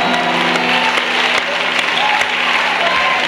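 A church congregation applauding during a sermon, a steady dense wash of clapping and crowd noise filling the whole stretch, loud and close.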